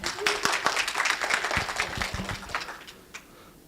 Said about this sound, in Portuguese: Palmas para o Valdir de novo